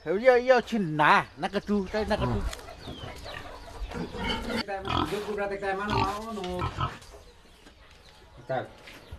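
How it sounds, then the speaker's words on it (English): A pig in rural China grunting and squealing loudly and close, with several sharp rising squeals and bursts of grunts, fading to quieter sounds toward the end; people talk at points. "In rural China, pig slaughtering is a long-standing tradition, especially during important festivals."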